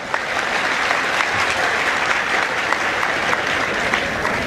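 An audience at a Marathi comedy show claps loudly and continuously, a dense, steady wash of many hands close and full for the whole stretch with no pauses.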